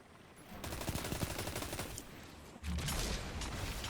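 Rapid gunfire rattles through a shooter video game match, with dense bursts of shots cutting in and out and a heavier, louder volley near the end, all without voices.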